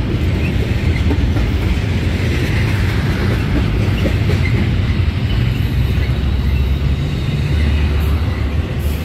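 Amtrak Pacific Surfliner passenger train running between Solana Beach and Fullerton, heard from on board as a steady, loud rumble of wheels on rails with constant low-end roar and faint rhythmic clatter throughout.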